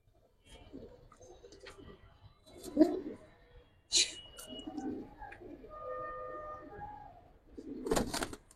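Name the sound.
pigeons cooing while being handled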